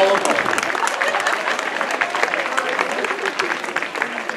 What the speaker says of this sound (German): Applaus für die vierbeinigen Athleten